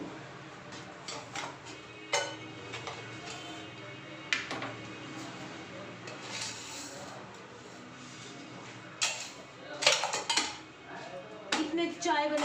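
Dishes being washed in a home kitchen: ceramic and metal clatter, cutlery clinks and knocks come in irregular bursts over running water, close and fairly loud, with no voices.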